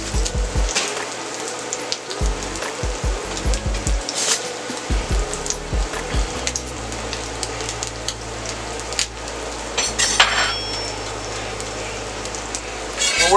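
Butter sizzling on a hot steel griddle while a bagel toasts face down, a steady crackling hiss running throughout with scattered sharper pops and a low hum underneath.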